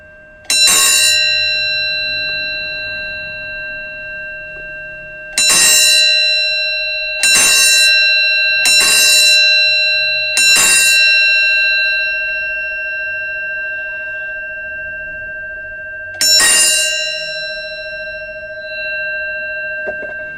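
A metal horse carriage bell is struck loudly several times in uneven succession, each strike ringing on with a long, bright sustained tone that slowly fades.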